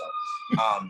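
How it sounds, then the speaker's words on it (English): A fire station siren wails next door to a cooperative, a steady high tone that is loud but a little distant, heard under a person speaking. "sorry for the siren, our cooperative is right next to a fire"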